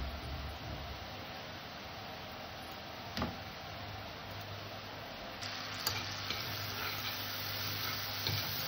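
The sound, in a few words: butter sizzling in a kadai (wok)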